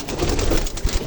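Pigeons in a coop coo softly and low, a brief murmuring burble close by, with a little rustling and no talk.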